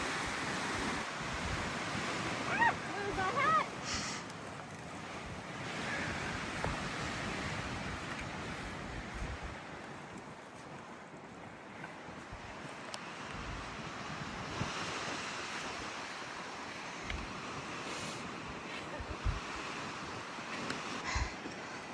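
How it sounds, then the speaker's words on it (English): Strong wind roars continuously across an exposed mountain ledge on the Appalachian Trail, with loud gusty buffeting against the microphone throughout, no voices. "It is extremely windy though,"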